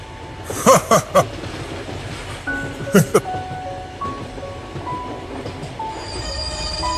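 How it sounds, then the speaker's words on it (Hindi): A cartoon train pulls into a station and comes to a halt, with loud clunks, rumbling and drawn-out brake squeals rising and falling as it slows. "दोनों की बातें चलते चलते ट्रेन मोहनपुर स्टेशन पर आके रुकती है"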